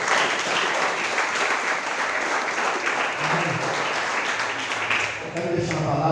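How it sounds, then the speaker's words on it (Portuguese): An applauding church congregation at a morning prayer service, sustained broad clapping from many people filling the room, with a voice emerging faintly near the close. "Vamos dar salve de palmas para o Senhor Jesus"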